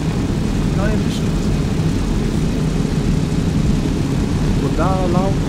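Inside an aircraft in the military video game Arma 3, a loud engine drone fills the cabin as a constant low roar, with brief bits of voice rising above it.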